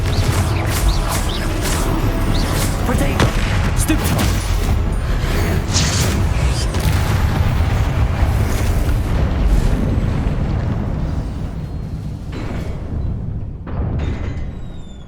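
Repeated Confringo spell blasts from Hogwarts Legacy, a dense, loud barrage of booming explosions and crashes through most of the span, easing off slightly near the end with a few last bursts.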